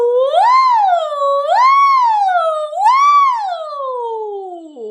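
A singer's voice imitates a siren as a vocal exercise, three loud rising and falling swoops followed by a long gliding descent, clear and close with nothing else heard.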